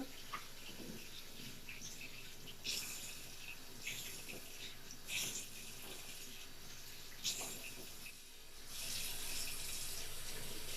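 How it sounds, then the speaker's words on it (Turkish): Running tap water splashes into a sink while a face mask is rinsed off by hand: a steady close hiss of flowing water broken by small splashes, surging louder near the end, with no talking. "Şimdi şöyle bunu yıkayacağım."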